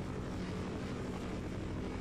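A helicopter in the video game Half-Life, holding position over a dam level, drones loudly and continuously with a throbbing rotor beat.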